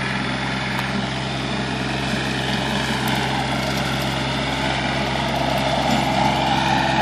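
Farm tractor engine running steadily in a clover field on a ridge, a continuous close drone with a constant hum and no breaks or talk.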